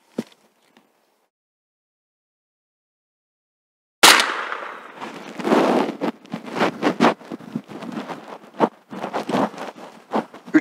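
Shots fired at a circle-breaking target shooting practice: a sharp report, then silence, then a burst of loud, irregular cracks and clattering impacts close by, with no talking.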